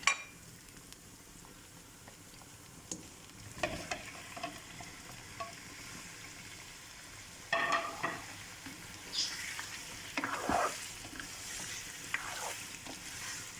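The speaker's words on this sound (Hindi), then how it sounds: "अब हम इसमें चिकन ऐड करेंगे।" Chicken added to a pan and frying for white chicken karahi: a low constant sizzle with occasional scraping stirs and clatter, growing busier in the second half, close and fairly quiet.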